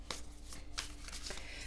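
Tarot cards are shuffled by hand in quick riffling bursts, three or four crisp flurries close up over a low steady hum, with no talking.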